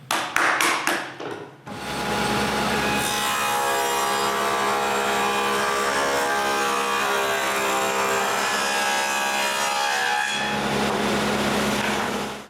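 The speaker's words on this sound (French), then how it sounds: "puis je coupe une rainure sur toutes les faces où il y aura un des panneaux que je viens de coller" A table saw fitted with a dado blade cuts a groove into a wood panel: a few short taps, then the blade's loud sustained whine for about eight seconds, fading as the cut finishes.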